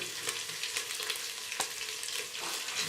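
Onion masala sizzles and fries in a pan for kadhi, a steady crackling hiss with brief stirring scrapes throughout, close and moderately loud with no talk.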